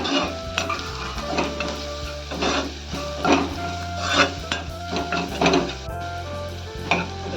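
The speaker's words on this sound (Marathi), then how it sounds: "कांदा भाजू दे चांगला." Chopped onion fries in a pan with coriander powder, cumin powder and turmeric for toor dal amti, a steady sizzle broken by repeated scraping and clinking stirs of a spoon against the pan.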